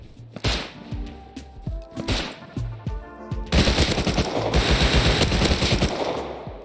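Machine gun fire in the survival game Rust: short, punchy bursts of automatic shots at first, then a long, loud, continuous stream of rapid gunfire.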